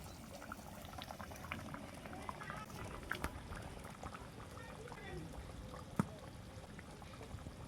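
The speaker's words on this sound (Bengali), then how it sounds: "ঝোলটা ভালো মতন ফুটে গেছে" Katla fish curry gravy with potatoes bubbles steadily in a pot, a dense low simmering gurgle with occasional sharper pops, heard close and moderately quiet while a person talks over it.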